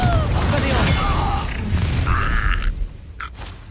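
A Confringo fire spell blast in Hogwarts Legacy, a loud booming burst with a rumbling low end and a few creaking, whooshing tails that fade out over a few seconds, with a voice calling out at the start.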